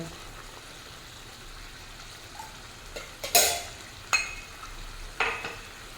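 Mustard, poppy seed and green chili paste goes into a hot pan of pomfret fish over high flame, giving a few sharp sizzling bursts and scrapes over a low steady frying hiss, fairly quiet and close.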